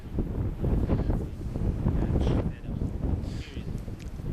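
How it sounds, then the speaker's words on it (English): Wind gusts buffet the microphone in Patagonia, low rumbling blasts swelling and fading in uneven waves, with faint brief sounds above. "that's the wind again"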